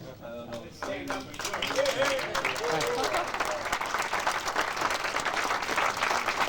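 Conference audience in a hall breaks into sustained applause, dense clapping rising after a brief moment of talk at the start and holding steady to the end.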